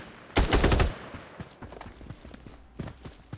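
Gunfire in the battle royale video game Farlight 84: a short, loud burst of rapid automatic shots near the start, then scattered single shots and footstep-like thuds at lower level.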